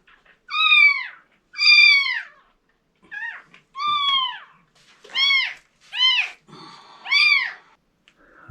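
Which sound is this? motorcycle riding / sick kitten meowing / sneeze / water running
sick kitten meowing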